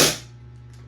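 A single sharp gas-powered shot from a Double Bell Pit Viper airsoft pistol after nozzle repair, a loud close crack that decays quickly into a faint steady hum.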